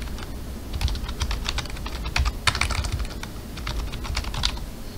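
A computer keyboard clatters with quick, steady keystrokes as an email address is entered while setting up an Ubuntu virtual machine on a Proxmox homelab server, close and continuous with no talk.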